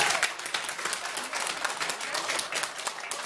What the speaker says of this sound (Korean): 크게 박수 한번 쳐주십시오.